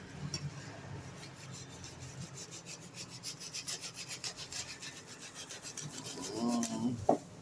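A knife saws through fresh fish with fast, regular back-and-forth strokes close by, growing louder and ending in a brief scrape and knock.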